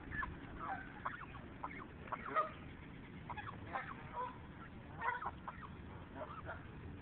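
A goose calls up close, giving a string of short honking and clucking notes at an uneven rhythm over a low outdoor background hum.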